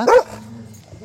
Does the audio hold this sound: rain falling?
no